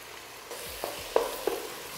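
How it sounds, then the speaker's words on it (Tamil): Ginger garlic paste and tomato sauté in a pan with onion for chicken biryani, a soft, quiet sizzle with a few light stirring scrapes and clicks. "இஞ்சி பூண்டு பேஸ்ட்டு தக்காளி சேர்த்து நல்லா வதக்கிடுங்க"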